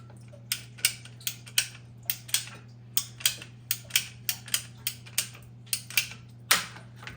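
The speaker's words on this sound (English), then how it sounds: "So cut this other piece here." A piece of water pipe is cut with a steady series of sharp clicking snips, about twenty evenly spaced over the span, over a constant low hum.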